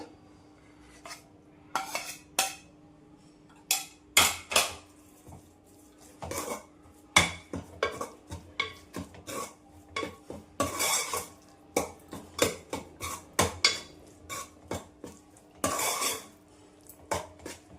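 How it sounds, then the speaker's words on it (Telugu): Repeated clinks and scrapes of a utensil against a bowl as ground gongura (sorrel leaf) paste is stirred into cooked leaves for Telangana-style gongura pachadi, with irregular close knocks and quiet gaps between them. "ఇందాక మిక్సీ చేసుకున్న ఇదంతా ఇందులోకి వేసుకొని కలుపుకుందాము"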